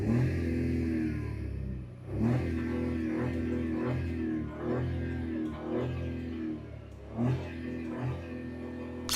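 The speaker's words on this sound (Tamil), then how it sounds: "வண்டியை ஸ்டார்ட் பண்ணலாம்." Maruti Dzire Z series three-cylinder engine starting, then idling with a low steady rumble broken by several light revs and throttle blips, close and fairly quiet with no talking.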